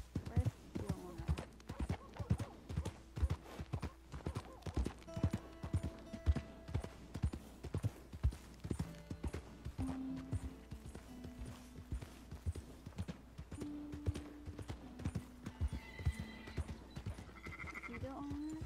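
Horse hooves clip-clop steadily through a Red Dead Redemption 2 game scene, with occasional neighing and bleating animal calls, all sitting under ongoing talk and game music tones.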